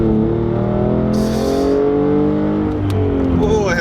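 A car running on 87-octane fuel pulls hard in first gear, its engine note climbing steadily and loudly from close by as it accelerates, with a brief whoosh partway through.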